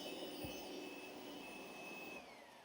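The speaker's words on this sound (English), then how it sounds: "And that's the sound of the vacuum." A Roomba Combo 10 Max robot vacuum runs with a steady, fairly quiet whir and a thin high whine that holds and then dips slightly near the end, a soft low thump early on.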